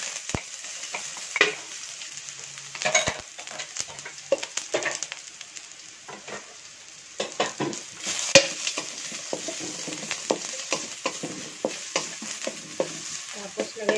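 Chopped garlic sizzles and crackles in hot oil in a casserole pan while being stirred, with scraping clinks now and then, steady and close throughout.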